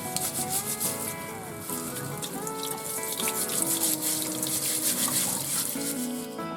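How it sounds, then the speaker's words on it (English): Beets scrubbed by gloved hands under running water in a sink, a continuous close rubbing and splashing with steady tap flow throughout. "Next I have to wash this scrub beets to remove the dirt and earthy smell."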